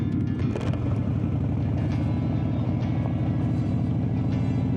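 A Harley-Davidson Street Bob with a Vance & Hines exhaust rumbles along a ride, its steady low, pulsing engine note loud and close throughout without a break.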